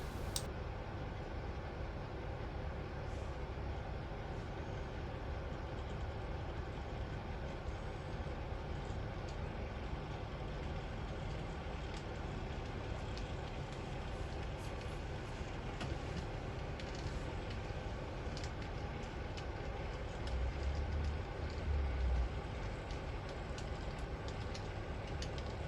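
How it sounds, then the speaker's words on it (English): A model stopping train pulls into a station platform on a circa-1963 Dawlish Warren layout, a continuous low rumble of wheels with faint ticking rail joints. "this allows the stopping train to pull into the station platform"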